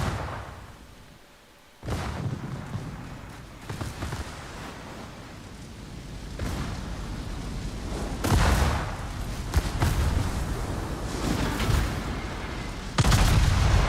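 Ship cannons firing during a naval battle in a video game, heavy booming blasts and rumbling bursts repeating over a dense, noisy battle bed, with several loud impacts close together.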